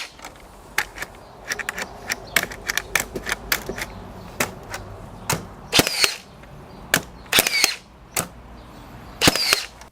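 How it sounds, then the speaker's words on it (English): Makita 18V cordless framing nailer firing nails outdoors, a long series of sharp, loud snapping shots at irregular intervals with a few heavier bursts, no talking. "What happens if I fire a nail here?"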